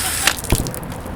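Water bursts from a freshly drilled hole in a container and spills out, with a couple of short splashy spurts and drips, close by and moderately loud.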